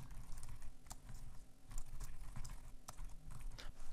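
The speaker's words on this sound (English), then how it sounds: "what if I type" Typing on a computer keyboard, quiet, close, irregular clicking keystrokes in quick bursts with no talk.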